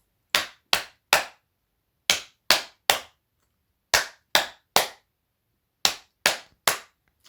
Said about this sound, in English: do you like it when Mummy does a clap?